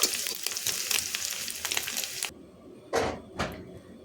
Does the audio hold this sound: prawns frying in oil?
yes